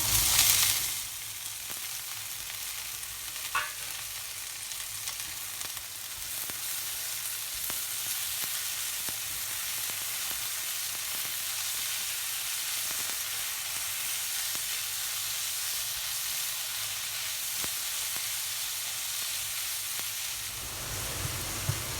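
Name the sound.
paneer pieces frying and sizzling in pan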